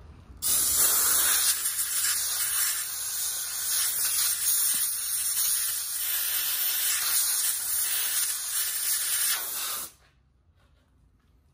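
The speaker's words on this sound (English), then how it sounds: "We're gonna go ahead and blow off our shavings that are on our tap" Compressed air blasts metal shavings off a tap during heavy machinery repair, a loud, steady hiss that holds for about nine seconds before stopping abruptly.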